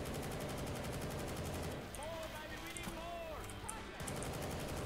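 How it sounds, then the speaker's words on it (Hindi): Dense crackling bursts of firecrackers going off in the Left 4 Dead 2 video game during a New Year celebration, a steady clatter under faint voices talking over game chat. "वो भाई वो पटाखे हैं, वो पटाखे हैं।"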